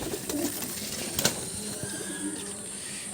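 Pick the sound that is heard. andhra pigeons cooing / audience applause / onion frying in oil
andhra pigeons cooing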